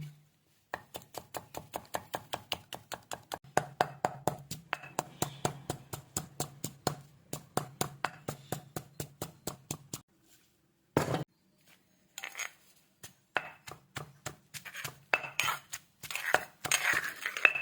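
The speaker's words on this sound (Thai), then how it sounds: "โขกก่อนนะคะให้ให้แหลกนิดนึง" Tiny bananas for Thai banana salad are pounded in a mortar in a fast, regular rhythm of sharp knocks. After a short pause, looser, more irregular thuds and clinks follow.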